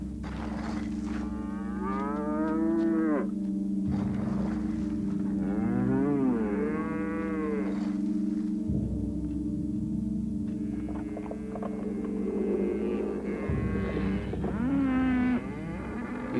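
Cattle grazing in open country moo repeatedly in long, drawn-out calls, several animals taking turns at moderate distance over a steady low hum.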